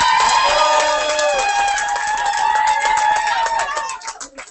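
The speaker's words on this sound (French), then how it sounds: "Je crois qu'on peut encore les applaudir." A concert audience cheers and shouts after a band's performance, a loud, sustained crowd roar of many overlapping voices that tapers off toward the end.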